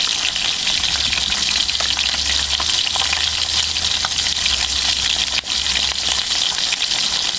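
Food frying in hot oil, a loud, continuous sizzle and crackle held steady throughout at close range, with no voices.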